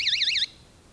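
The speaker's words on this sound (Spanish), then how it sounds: "empieza a sonar la alarma" An electronic camping alarm gives a loud warbling electronic tone that rises and falls in quick sweeps for about half a second, then cuts off abruptly.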